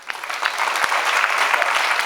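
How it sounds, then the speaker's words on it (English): Dense, bright applause from a business event audience, loud and close, continuing steadily throughout without talk over it. "Give a round of applause, please."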